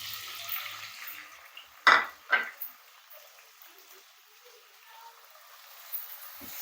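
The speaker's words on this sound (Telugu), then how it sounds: "ఈ టమాటా ముక్కలు కూడా కాస్త దోరగా వేపుకోవాలి." Tomato pieces frying in a pan for coriander tomato chutney give a soft, steady sizzle, broken by two quick clatters of a spoon stirring against the pan, with no talking.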